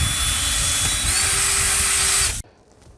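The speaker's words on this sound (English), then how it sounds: "got to drill a hole into the plastic where these holes are" A power drill whines at full speed while boring holes in a plastic rear windshield for a CFMOTO ZFORCE 800 EX, loud and close, with a pitch shift partway through, then cuts off abruptly.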